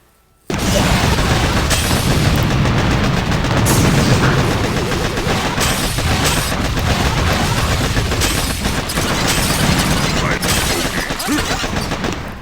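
A relentless, loud barrage of rocket launchers firing in a Boom Beach Warships battle: dense explosions, booms and rapid gunfire-like blasts run together without pause for the whole stretch.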